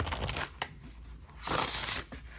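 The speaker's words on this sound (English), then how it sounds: "The only way that I've found to shuffle it is like this." Large oversized oracle cards being shuffled by hand, a soft papery riffling in two bursts, the second louder and longer, close and alone with no talking.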